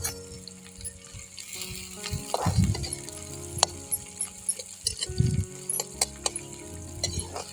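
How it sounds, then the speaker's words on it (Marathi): Garlic cloves, onion and green chilli fry in hot oil with a constant crackling sizzle, broken by a couple of louder scraping stirs and small clinks of a utensil against the pan. "लसणच्या पाकळ्या त्याच्यासोबतच कांदा टाकून द्यायचा आणि हिरवी मिरची आता हे भाजून घ्यायचं व्यवस्थित"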